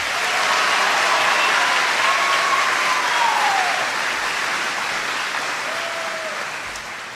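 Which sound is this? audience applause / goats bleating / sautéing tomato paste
audience applause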